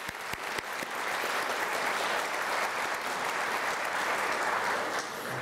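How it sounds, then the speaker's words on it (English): Audience applause for spelling bee participants at a county spelling bee, steady sustained clapping from a crowd that starts abruptly and holds at an even level for several seconds, with no talking over it. "Let's give them a round of applause at this time."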